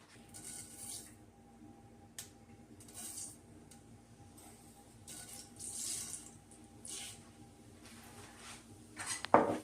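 A pan being set onto a kitchen stove while making a Kerala green apple pickle, giving scattered light metallic clinks and clatters over quiet room tone, ending in a louder knock.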